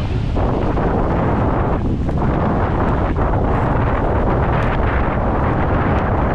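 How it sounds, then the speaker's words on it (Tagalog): Strong typhoon wind on a storm-hit coast roars and buffets the microphone continuously, a loud rumbling blast with no pauses and no voices. "Kaya hangin, nakakadala."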